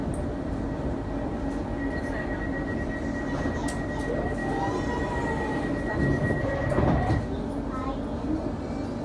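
Steady rumble of a London train to Gospel Oak running on rails, with a continuous low drone and faint rattling, swelling briefly louder near the end.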